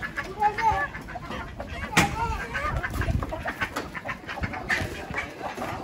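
Turkeys and other farm fowl crowd close while grain is scattered for them, clucking and gobbling in a busy, overlapping flock with a sharp call partway through and a person speaking over the birds.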